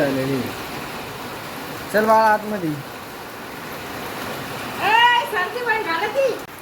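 Steady rain falls over a village home, a constant broadband hiss running the whole time while voices talk over it in two short stretches.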